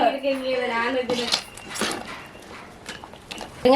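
Pots, pans and cutlery clatter and clink close by in a home kitchen while dishes are washed, with irregular metallic knocks and scrapes and running water between them.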